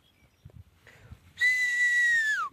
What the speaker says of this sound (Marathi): त्यामुळं शिट्टी अशी वाजवते